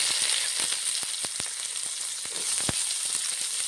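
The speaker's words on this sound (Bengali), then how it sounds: "চচ্চড়িতে দিয়ে দেবো পেঁয়াজ কুচি," Chopped onion frying in oil for a small-fish chorchori, a steady close sizzle with scattered crisp pops and crackles throughout, no voices.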